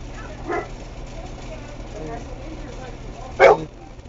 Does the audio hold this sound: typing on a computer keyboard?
no